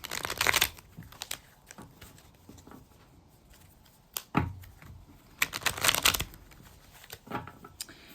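Tarot cards are shuffled in quick riffling bursts, close by, with brief quiet gaps between rounds of soft papery flicking.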